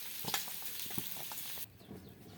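Potatoes sizzling and frying in a pan, with a steady crackle and a few scraping stirs, then the sizzle quiets toward the end.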